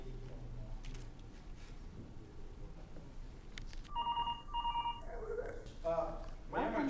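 Telephone conference line ringing in a courtroom, with repeated electronic ring tones in the middle of the clip over a murmur of room noise and distant voices.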